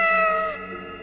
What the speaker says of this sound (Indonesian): tiba-tiba itu ada kucing lewat